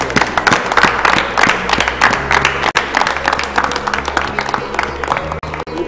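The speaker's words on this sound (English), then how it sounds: "Can we give a clap of praise to Jesus?" A church congregation gives a clap of praise, a dense, steady run of many hands clapping together at close range for several seconds, with faint voices mixed in.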